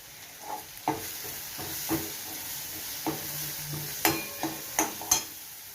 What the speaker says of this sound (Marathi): चांगलं मिक्स करू